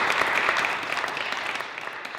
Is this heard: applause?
yes